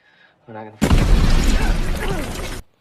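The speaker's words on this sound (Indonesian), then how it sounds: "bom pun meledak tepat di belakang mereka" A bomb explodes just behind soldiers in a war film set in Afghanistan, a brief voice first, then a loud, close, rumbling blast that sustains for nearly two seconds before cutting off.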